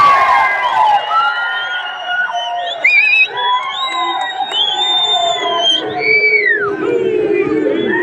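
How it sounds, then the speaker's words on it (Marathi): A large crowd at a Hindu Jan Aakrosh protest rally in Akkalkot cheers and shouts loudly, with rising whistles and overlapping voices in a sustained, lively roar. "जरा जल्लोष करून सांगा."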